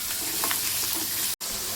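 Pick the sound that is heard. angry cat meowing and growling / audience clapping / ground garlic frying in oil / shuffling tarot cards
ground garlic frying in oil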